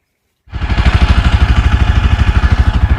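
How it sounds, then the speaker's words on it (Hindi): Motorcycles warm up before departing Zuluk in Sikkim: one close, loud engine starts abruptly and settles into a steady, rhythmically pulsing idle with a throbbing low-end beat and no voices. "बाइक वगैरह वार्म अप कर रहे हैं हम लोग"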